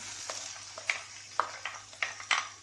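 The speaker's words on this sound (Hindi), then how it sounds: "कढ़ाई के अंदर मैंने 3 टेबलस्पून ऑयल डाल दिया है और इसके अंदर ये प्याज डाल रही हूँ।" Onions frying in oil in a wok for spicy keema pasta, a soft steady sizzle broken by several sharp stirring scrapes and clinks, close and moderately loud with no voices.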